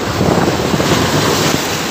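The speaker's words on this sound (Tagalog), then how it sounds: "Sinasabi ng matatanda na maganda mag-fishing pagka ganitong malakas yung alon, tapos taas ng bagyo." Strong waves churn along Manila Bay after a typhoon, a loud continuous wash of surf mixed with heavy wind buffeting the microphone, close and rough for the whole stretch.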